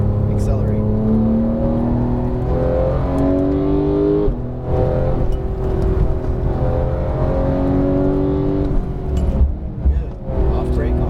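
Porsche GT3 991 accelerating on a race track, its engine note climbing steadily in pitch through the gears. The sound is loud and continuous, and a voice talks over it throughout.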